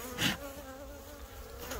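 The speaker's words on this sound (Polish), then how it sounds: "O, są pszczoły." Honeybees buzz around a hive frame during a winter hive inspection. The drone is close and continuous, with one louder bee passing near at the start.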